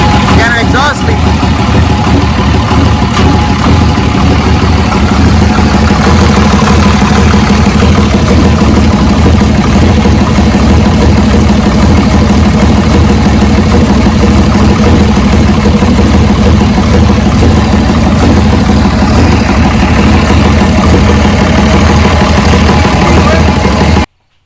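A twin-turbo Ram 2500 diesel idles with an exhaust leak, a loud, steady low rumble that runs unbroken for about 24 seconds and then cuts off abruptly.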